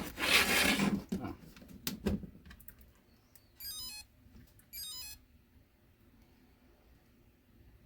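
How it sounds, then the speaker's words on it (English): Two short, bright electronic beeps from the ESC of a Traxxas LaTrax RC truck signal a 2S battery, following clattering handling noises close by in a quiet room. "The 2 little beeps means it's 2S."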